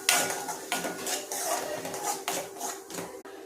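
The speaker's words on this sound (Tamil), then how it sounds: "கொஞ்சம் நேரம் இதை வதக்கி விட்டுக்குவோம்." Ground curry-leaf chutney is stirred and sautéed in a pan, with a spoon repeatedly scraping and clinking against the metal in uneven bursts over a low sizzle, close and without voices.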